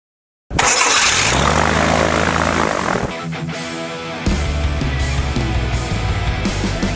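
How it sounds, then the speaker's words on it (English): Experimental Viking aircraft engine cranks and catches, then its propeller spins up into a loud, rough, throbbing run that settles into a steady, close roar. "We're going to start this puppy up. Clear, prop."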